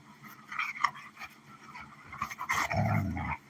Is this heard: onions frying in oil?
no